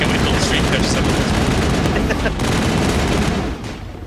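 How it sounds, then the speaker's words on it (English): Dense, continuous gunfire in the video game Mass Effect rattles nonstop with overlapping bursts and booms, loud and close, easing slightly near the end. "Oh, so many gunshots."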